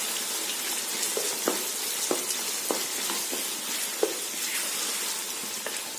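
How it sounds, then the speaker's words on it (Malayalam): Sliced onions sauté in a pan for Ambur biryani, a soft, even sizzle broken by several sharp clicks and taps as a spoon stirs them. "ഇനി ഇതിലോട്ട് ഈ സവാള ഇട്ട് കൊടുക്കണം. എന്നിട്ട് ഈ സവാള ഒന്ന് പകുതി വഴറ്റണം."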